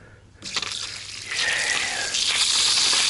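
Water starts gushing from a spigot at an RV campsite after a quiet moment, first a splashy burst, then a strong steady hiss of running water at close range that grows slightly louder.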